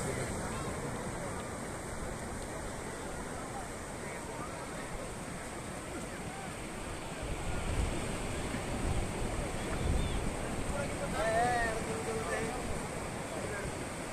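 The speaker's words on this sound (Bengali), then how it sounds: "এখন চলো তোমাদের একটু সমুদ্রের গর্জন শোনাই" Surf washes in a steady, hissing roar at Sugandha Beach, Cox's Bazar, with swells building in low rumbles, heard from the shore with wind buffeting the microphone.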